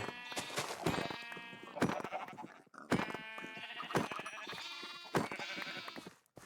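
Repeated bleats from sheep in a farm survival video game, several calls overlapping in roughly one-second bursts, close and steady, with one short pause midway and no voices.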